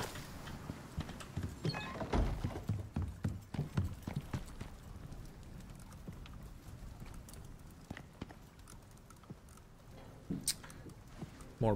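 Horse hooves clip-clopping as a character rides in the survival game Icarus: New Frontiers, a run of close, rhythmic thuds that starts brisk, then slows and thins out, with sparse knocks and gear sounds scattered around it.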